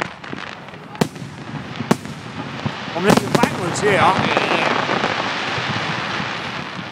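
Fireworks burst at a Hastings bonfire night celebration: sharp loud cracks near one and two seconds, then a cluster of bangs and crackling sparkle around three to four seconds, with people talking nearby amid crowd noise.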